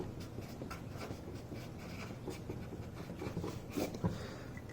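Writing on a classroom board during a chemistry lesson: soft scratchy strokes in short bursts, quiet and close, with faint room noise and no talking.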